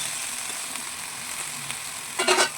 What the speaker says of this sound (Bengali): একটু জল দিয়ে সেদ্ধ করে নেব।